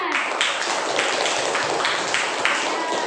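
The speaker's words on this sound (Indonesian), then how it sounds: "kasih tepuk tangan kepada temannya" Classmates applaud a student in an elementary classroom, a continuous wash of clapping at steady loudness, with voices mixed in.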